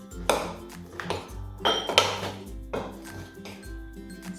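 Cutlery cuts through a crisp apple crumble, giving several short clinks and scraping crunches against the dish at an uneven pace, close and fairly quiet.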